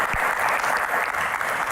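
Studio audience applauding for a musician, a brief, loud and dense burst of clapping heard on its own.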